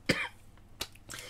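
Three separate coughs spaced apart, close by, with brief quiet between them.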